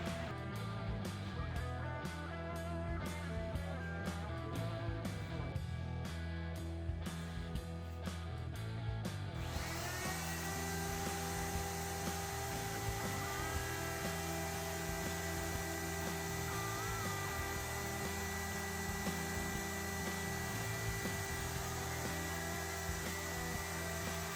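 Power tool with a bevel bit routing the edge of a back step on a Super Air Nautique G25 wake boat, a steady loud whine with choppy pulses early on, then a continuous smoother drone that runs unbroken throughout.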